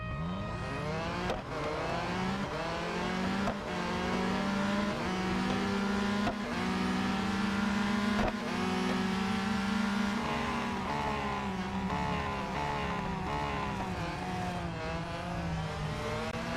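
A race car engine in the Real Racing 3 video game, on the Laguna Seca circuit, whines loudly and continuously, its pitch climbing and dipping through gear changes, with no talking.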